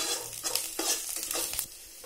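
Raw banana peels browning in a pan over a low flame for chutney, giving a soft, even sizzle broken by several quick stirring strokes, with no voices.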